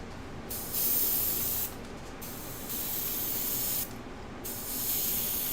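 An airbrush sprays chameleon pigment powder in bursts of steady hiss, stronger in some stretches and easing in others, with brief pauses between, heard close up.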